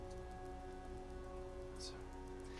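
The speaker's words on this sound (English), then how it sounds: "soon, rain begins to settle in on this large city" Steady rain settles over a large city, a constant even hiss of falling water with a brief brighter splash partway through, continuous and moderately loud throughout.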